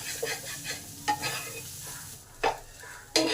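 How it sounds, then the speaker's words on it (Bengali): Fish, potato and spices being stirred in a hot pan, a soft background sizzle broken by several scraping spatula strokes and clacks at irregular intervals, close and without talk. "এবার এটাকে আলু মাছ আর মশলার সঙ্গে ভালো করে পাই করে নিই"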